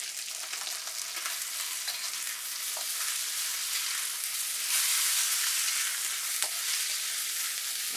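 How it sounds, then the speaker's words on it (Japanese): Pork stir-fries in a pan for a takana pickle and pork dish, making a continuous bright sizzle broken by light stirring scrapes and taps. "本当に豚肉が完全に火が通るまで先に炒めるんです"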